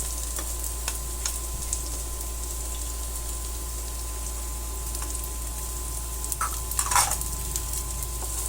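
Onion and garlic sautéing in a pan for spaghetti, a steady low sizzle with occasional stirring scrapes and clinks over a constant background hum.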